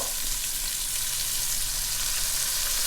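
Soy sauce sizzles in hot cooking oil with onion, garlic and pepper, a steady, close frying hiss with no talking, part of a chicken kaldereta.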